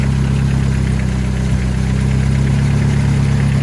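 A car engine idles steadily after a timing adjustment, a continuous low rumble with a strong hum and even vibration throughout, close and loud, with no talking.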